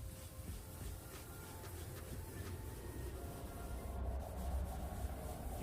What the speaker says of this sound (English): You can already see the paint color changing from scuffing it up